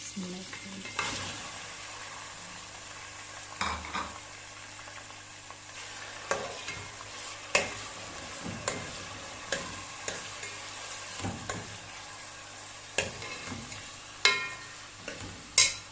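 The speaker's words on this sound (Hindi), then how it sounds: "अब हमने ये चिकन भी इसमें ऐड कर देना है।" Chicken fries in a pan with a soft continuous sizzle, broken by repeated scraping and clinking stirs of a utensil against the pan at an uneven pace, fairly quiet and close.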